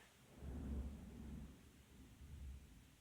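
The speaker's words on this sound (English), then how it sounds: "thunderstorms, eh?" Thunderstorm thunder rolls in two low, heavy rumbles, the first swelling and fading over a second or so and a second softer one following, with a faint wash of rain beneath, no voices.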